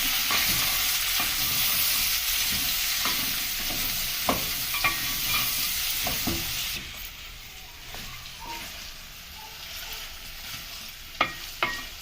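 Pork and onion fry in cooking oil in a pot, a loud continuous hiss that softens partway through, punctuated by the scrape and clack of stirring with no talking.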